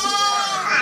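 A sheep or lamb bleats once, close and loud, in a long wavering cry that lasts the whole moment.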